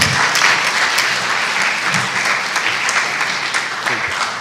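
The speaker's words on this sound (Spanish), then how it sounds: "Le damos, por favor, un fuerte aplauso" A conference audience applauds at a talk on the Mexican publishing industry, a dense, steady clapping from many hands that fills the room, with faint voices underneath.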